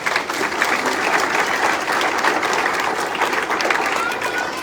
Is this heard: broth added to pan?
no